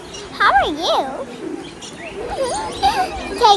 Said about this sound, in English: Parrots. Lot of parrots are eating.